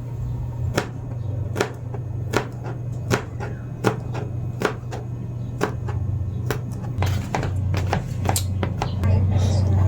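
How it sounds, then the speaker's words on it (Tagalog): A knife chops garlic on a cutting board in a home kitchen, with a steady run of sharp close taps about every second over a low hum. "at hinihiwa na rin po ni Mahala yung bawang."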